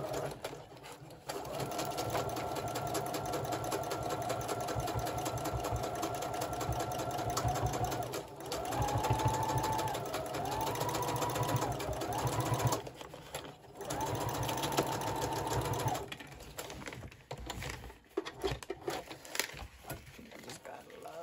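A sewing machine stitches paper ruffles for a junk journal in repeated runs of rapid, even clatter with short pauses between, close and fairly quiet.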